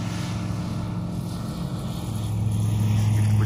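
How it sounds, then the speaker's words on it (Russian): A small propeller engine drones and rises in pitch, growing steadily louder as a Swift flying-wing model airplane revs up and takes off from a runway. "Самолет пошел."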